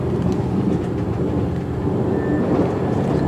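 Steady rumbling hum from inside a moving passenger train, a continuous low-pitched drone with faint rattles and a brief high tone partway through, with no talking.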